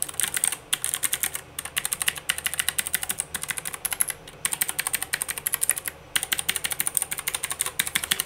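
Rapid typing on a LANGTU LT84 keyboard fitted with clicky switches and aftermarket keycaps, a close, steady stream of sharp key clicks broken by a few short pauses, with no voices.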